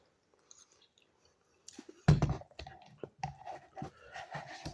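Close crunching and chewing of rehydrated carrot pieces from an extra-spicy instant ramen cup, starting after a short quiet lead-in with a sharp bite, then irregular wet crunches and mouth sounds continuing to the end.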